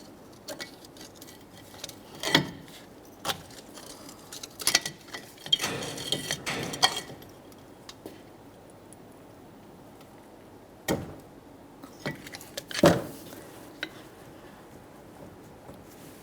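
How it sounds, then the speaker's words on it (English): A pry tool works between a brake caliper and rotor on a 2011-2020 Toyota Sienna, pushing back the two caliper pistons: scattered metallic clicks, scrapes and creaks in irregular bursts, separated by quiet gaps. "We're prying up against the caliper and the brake rotor, attempting to push back each of our 2 caliper pistons"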